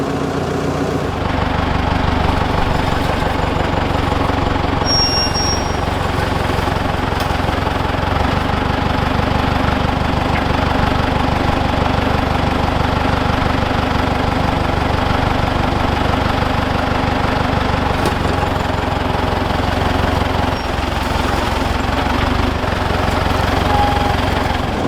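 A Deutz 6006 tractor's diesel engine runs loud and steady throughout while scraping material away from a wall, with an even, rumbling drone that never pauses.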